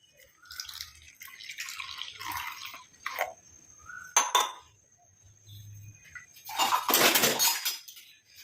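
Close, intermittent scraping and clinking of a utensil against a bowl as a hair-care mixture is stirred with about a glass of added water, in uneven bursts with quiet gaps.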